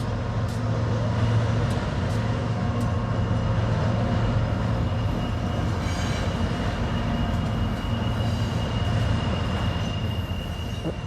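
A BNSF freight train loaded with containers of municipal solid waste rolls past at Salmon Bay Bridge, a loud continuous rumble of wheels on rail with faint squeals and clanks over the steady roar.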